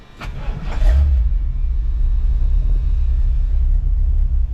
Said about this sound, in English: It fires right up. Let's fire it right up.